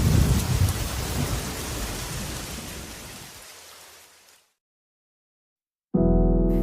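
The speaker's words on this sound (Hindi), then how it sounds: "तभी अचानक तेज बारिश शुरू हो गई" Heavy rain pours down with a dense, loud hiss and low thundery rumble, fading out into silence before a sudden musical sting cuts in.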